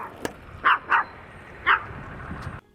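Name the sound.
dog barking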